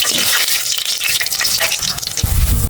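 Chicken, potatoes and whole spices (cinnamon, cardamom, bay leaves and black cumin) frying in half a cup of soybean oil, a loud, close sizzle with stirring scrapes and a brief bubbling swell near the end.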